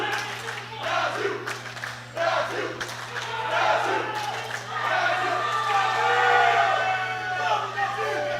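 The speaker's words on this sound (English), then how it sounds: "The Brazilian team is on their feet. They are cheering for Valdes." A Brazilian team's crowd cheers and shouts for their lifter Valdes during a deadlift at a world sub-junior and junior classic powerlifting championship, with sustained loud roaring and yelling swelling through the hall and a steady electrical hum underneath.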